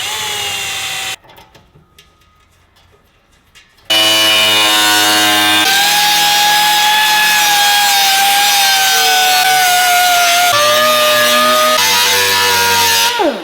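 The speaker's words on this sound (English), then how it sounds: "go ahead and drill all the holes where it's gonna mount" Loud, steady whine of a power drill drilling mounting holes in mounting tabs, pitch shifting as it works through material. A brief quieter gap comes early, then sustained drilling.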